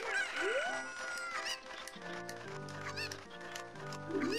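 Cartoonish chicken clucks and squawks from a fowl in the video game Ocarina of Time, sounding in a quick run of calls over steady background game music.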